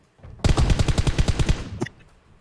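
A video game automatic weapon fires one rapid burst of about a dozen evenly spaced shots, loud and close. A short metallic click follows and the clip ends in near silence.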